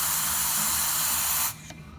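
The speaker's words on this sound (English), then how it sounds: "you just don't get steam like this with the US version of the DeLonghi Magnifica." A DeLonghi Magnifica espresso machine, a UK version converted to US power, hisses loudly and steadily from its steam wand, then cuts off abruptly partway through, leaving a quieter trailing hiss.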